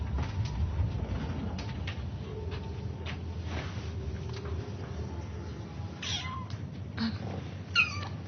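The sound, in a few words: kittens meowing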